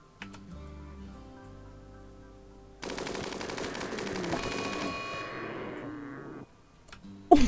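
Rapid gunfire from a RimWorld colony battle bursts in after a quieter opening and rattles on loudly for several seconds, then cuts off, with a sharp final report at the end.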